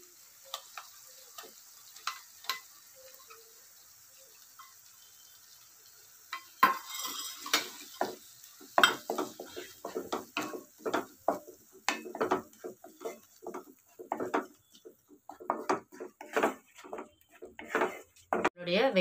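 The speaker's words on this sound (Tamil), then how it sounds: "வெங்காயம் நல்லா வதங்கிடுச்சு." A spoon stirs ground onion paste sautéing in a pan for paneer masala. After a near-silent start, irregular close taps and scrapes come faster and louder, over a faint cooking hiss.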